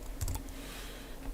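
Typing code on a computer keyboard: a quick cluster of a few soft key clicks near the start, then quiet room tone, faint and close.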